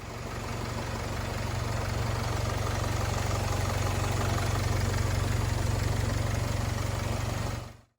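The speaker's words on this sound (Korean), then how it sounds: "그럼 마지막으로 엔진 사운드 듣고 마무리할 수 있도록 하겠습니다." A Jaguar XF sedan engine idles steadily with a low, even hum and a faint rhythmic chug, unchanging for several seconds before cutting off abruptly.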